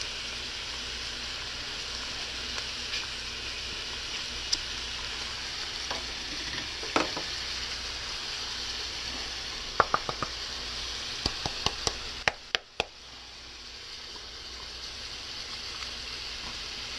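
Garlic for tacos fries in a pan with a constant close sizzle, broken near the end by a quick run of utensil knocks and scrapes as it is stirred, after which the hiss drops briefly and resumes.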